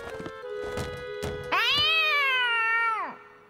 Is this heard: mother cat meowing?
yes